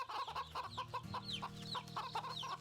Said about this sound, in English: Right, chicken.